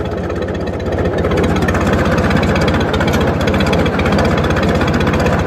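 Farmall Regular tractor engine running, a loud close rhythmic low thumping with a steady mechanical rattle that swells slightly after the first second and stays constant.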